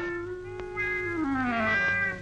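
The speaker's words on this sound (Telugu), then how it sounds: "పిల్లి పిల్ల మనదేలే, ఏం చేయదు" A kitten gives one long, drawn-out meow that slides downward in pitch, heard close and alone in a quiet room at night.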